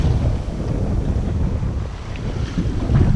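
A sailboat cruising at sea in strong wind: steady loud wind buffeting the microphone over low rushing water and hull motion, continuous throughout with no talking.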